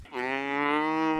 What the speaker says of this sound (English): Chasing cows in the rugged mountains of Idaho.